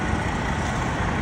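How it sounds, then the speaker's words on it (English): A bus rolls past close by near a cruise port, its engine rumble steady and loud, filling the short moment without any voices. "Oh, there goes a bus in our way."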